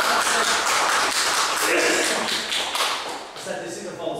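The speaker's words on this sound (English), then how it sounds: "Give Steve a round of applause." An audience claps for a volunteer named Steve at a hypnosis demonstration, a dense, close round of hand claps that stays loud before thinning out near the end, with some voices underneath.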